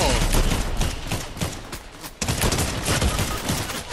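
Dense, continuous automatic gunfire in a shooter video game, loud and close, with overlapping bursts and a short dip before the barrage resumes.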